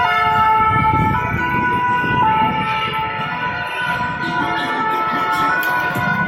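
Fire brigade vehicle siren outside a hospital in Marseille during a street gathering, a loud wailing tone rising and falling steadily for several seconds over traffic and crowd murmur.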